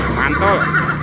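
A toy zebra lets out a short, close electronic horse whinny, a quick shaky neigh lasting about a second, with a voice speaking over it.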